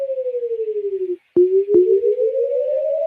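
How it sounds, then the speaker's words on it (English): Tornado warning alert tone from a weather radio, a loud warbling electronic beep pattern, then a brief gap, two clicks and a long sustained rising tone. "that's what a tornado warning would sound like"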